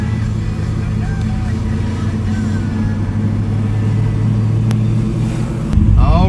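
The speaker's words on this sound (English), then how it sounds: "0 to 60, 1973 Camaro Z28. Let's see how it goes." A 1973 Chevrolet Camaro Z28 with a radical cam makes a heavy, steady low engine rumble from inside the car, then swells louder in a brief surge at the end.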